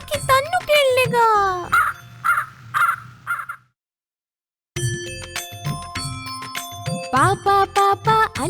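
Crow caws repeated in quick bursts inside a Telugu children's rhyme, with bright jingly musical tones and a short break of silence midway.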